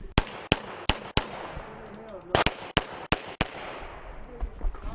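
A Glock .40 pistol fires at a USPSA Limited shooting match, with two quick strings of sharp, loud, closely spaced shots separated by a short pause and faint background voices.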